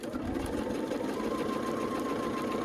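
A sewing machine stitches bat-shaped quilt pieces together, its motor running in a steady, even whir from start to finish with no talk over it.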